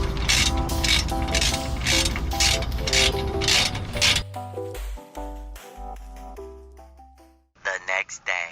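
Exhaust bolts being tightened on a Honda S2000 with a ratchet, giving rapid clicking pawl bursts and mechanical ratcheting, close and fairly loud, with brief pauses between runs and a few sharp clicks near the end.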